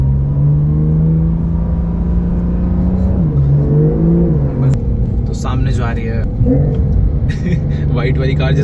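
A supercar engine in a racing video game revs and accelerates around a track, a loud steady drone with rising and falling pitch shifts, while someone talks over it.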